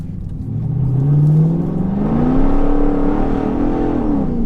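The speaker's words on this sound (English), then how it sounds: "even though it's got the big feet on it, that's just lighting the rear tyres up then" A 2003 Mercedes-Benz SL55 AMG wide-body accelerates with its rear tyres spinning, the loud supercharged V8 note rising, dipping slightly, then climbing again over several seconds.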